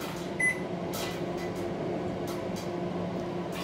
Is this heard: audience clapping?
no